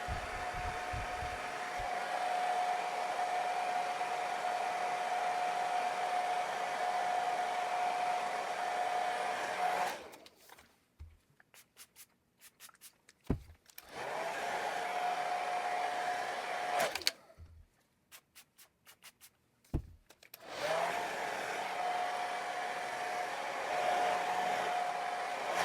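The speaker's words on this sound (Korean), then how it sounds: "드라이기 약품으로 멀리서 굳혀줄 겁니다" Hair dryer running on a low setting to set hairspray on the bangs, a steady whine in three long stretches broken by short pauses with clicks and handling noises.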